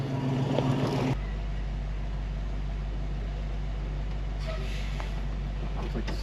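A 1966 Ford Mustang engine runs on a test drive, a steady, deep low rumble that holds evenly throughout, heard close with faint cabin noise above it.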